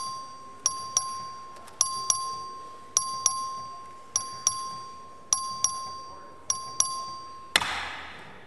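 A vote bell in the Texas House chamber, rung by the clerk, strikes about a dozen bright two-tone dings in an uneven rhythm, each decaying quickly over a faint steady tone, ending in a burst of noise.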